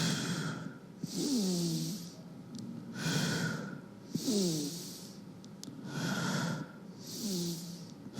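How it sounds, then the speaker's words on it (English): Steady yoga breathing exercise for asthma: four slow cycles of forceful nasal breaths, each a loud rushing exhale with snorting, wheezy tones, separated by short quieter pauses. "Hands in and out breathing you can use."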